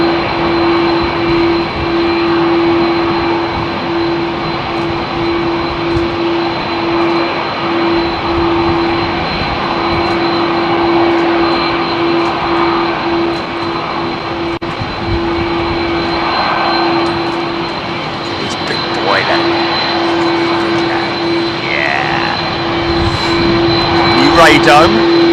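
A Virgin 777-300 jet airliner departs runway 27R at London Heathrow, its engines a steady, loud roar with a sustained tone, while someone talks over it throughout.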